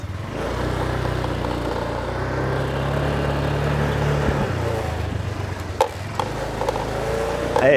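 A car pulls out of a driveway in Darwin, its engine a steady low rumble before a couple of sharp knocks and rattles as it rolls over a bump, with no talking.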